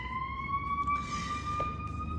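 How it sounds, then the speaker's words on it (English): A police siren sounds outside as a steady, wailing tone that slowly rises in pitch. It is moderately loud and distant, heard through a room over low background rumble. "there's a police siren going off there"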